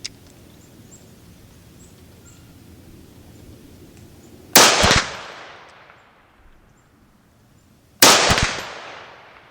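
Two sharp, loud rifle shots from a Springfield Armory Hellion fired at small 4-inch steel targets, spaced a few seconds apart, each with a ringing decay over a quiet outdoor background.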